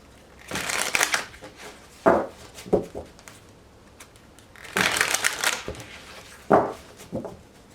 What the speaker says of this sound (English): we're going to do two more shuffles